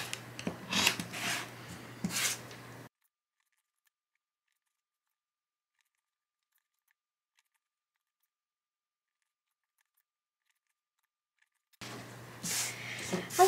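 Fabric pieces for a miniature Churn Dash quilt are trimmed in short bursts of close, crisp cutting and rubbing, separated by a long silent pause.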